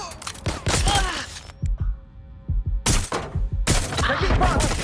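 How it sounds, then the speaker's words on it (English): Gunfire in Watch Dogs: Legion rakes toward the player in loud bursts of rapid shots, broken by short pauses, with sharp thuds and cracks close by and no voices. "I'm taking fire!"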